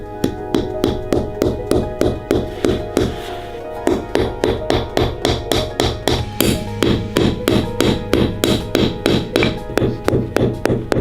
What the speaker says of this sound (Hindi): यहाँ के लोग जरूरत पड़ने पर जमे हुए फलों को हथौड़े की तरह भी इस्तेमाल कर सकते हैं।